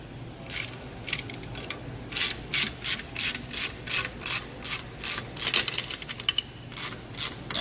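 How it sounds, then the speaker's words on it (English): A wrench ratchets repeatedly while loosening the clamps on a truck's air brake service chamber: a steady run of about a dozen sharp, evenly paced clicking bursts, close and clear, with no talking. "So we're going to take a wrench here. We're going to start taking it apart."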